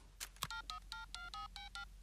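Telephone dialing tones from a cartoon scene, a quick run of about eight short beeping keypad tones after a couple of clicks, close and fairly faint, with no speech.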